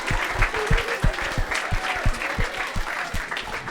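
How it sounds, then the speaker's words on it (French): Audience clapping at a public sports talk in Dol-de-Bretagne, a dense, even round of applause from a seated crowd that carries on steadily throughout. "on peut encore applaudir"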